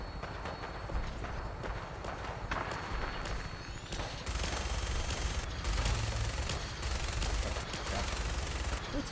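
Rapid bursts of gunfire during a Fallout 4 fight against gunners, dense automatic fire growing louder and heavier midway with some continuous rumble underneath and no talking.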